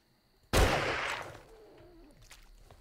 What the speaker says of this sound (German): Ich bin enttäuscht, das waren zwei Schüsse.